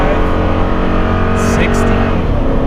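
A Toyota Tundra pulling a heavy trailer of about 8,000 to 9,000 pounds drones under full throttle at highway speed, a loud steady engine and road roar heard from inside the cab without a break.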